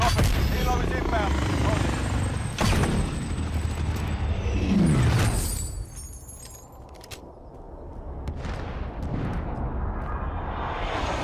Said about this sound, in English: Helo is inbound.